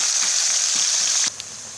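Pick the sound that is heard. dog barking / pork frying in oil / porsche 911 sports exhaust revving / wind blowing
pork frying in oil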